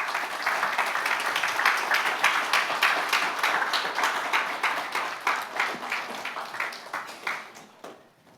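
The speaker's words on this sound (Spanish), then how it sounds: "Pónganse de pie, mis hermanos, con un aplauso al Señor también." A church congregation stands and applauds in praise during worship, a steady, fairly close wash of many clapping hands that gradually thins and fades toward the end.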